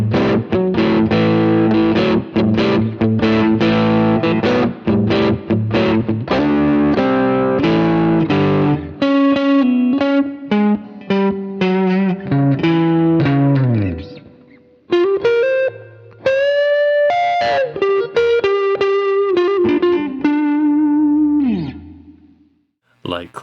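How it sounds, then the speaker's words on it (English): Electric guitar on a light crunch tone with the neck and middle pickups together, strummed chords and then picked single notes and bends, loud and close with no voices. "Light crunch tone, neck and middle."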